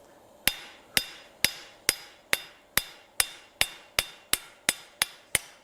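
Hammer blows forging hot steel on an anvil while spreading a fishtail end for a garden hose hook, thirteen sharp ringing strikes at a steady, even rhythm, close and loud with short metallic decay.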